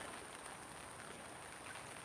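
Heavy rain pours near a small, swollen stream, a thick unbroken wash of hiss that holds steady and near for the whole stretch, alone without talk.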